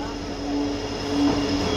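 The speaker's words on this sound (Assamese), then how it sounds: "এইটোলা ট্ৰেইনটো আহি যাইছে এতিয়া" A passenger train on the Dimapur to Assam route pulls into a station with a steady rumble and faint wheel squeals, heard at moderate distance over a constant station hum.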